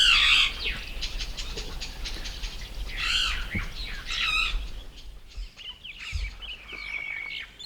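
Harsh squawking calls from a Burchell's starling ring out in bursts, with quick rapid chirps and ticking notes from another small bird in between.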